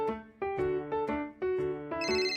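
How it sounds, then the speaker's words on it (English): A telephone in a cartoon police station rings with a bright electronic ringtone melody, repeating short tonal notes clearly and alone with no talk. "The phone's ringing."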